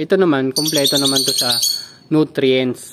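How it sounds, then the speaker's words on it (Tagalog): Loud, insistent bird chirping in an urban garden, repeated bursts of bright calls close by while someone talks over them. "Pasensya na sa ibon, medyo maingay."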